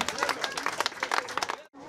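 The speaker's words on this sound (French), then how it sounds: "on peut les applaudir" A burst of clapping from an audience at a Saint-Chamas eel festival, dense and lively, cutting off abruptly near the end.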